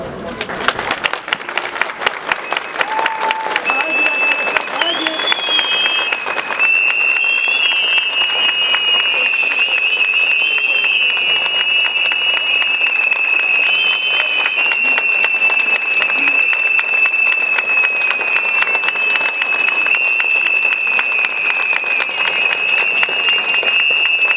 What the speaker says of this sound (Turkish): Sizi alkışa davet ediyorum.